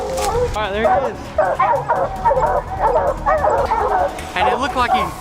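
Hunting dogs baying and yelping excitedly at a treed black bear, rapid overlapping barks and high whimpering yips, loud and close, nearly nonstop.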